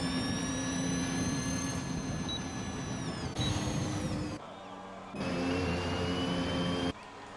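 A Formula racing video game car at Bahrain gives a steady high turbo whine and ERS electrical hum, a continuous drone with pitch shifts and abrupt cuts in level, no engine roar beneath, alone without talk.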